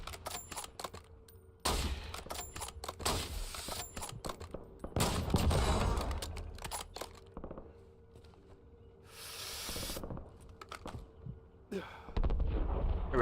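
Bursts of gunfire in a Call of Duty Warzone match, loud irregular volleys and sharp shots spread across the clip, with quieter game ambience between them.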